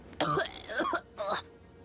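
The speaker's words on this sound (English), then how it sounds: "Lycus's cough. It grows worse by the day." A character in a Babylon's Fall video game cutscene coughs and clears the throat in three rough, close bursts.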